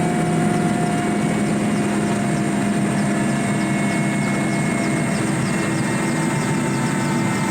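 A loud, constant helicopter engine roar with a whirring rotor drone as it lands in the mountains, steady and close, with no talking.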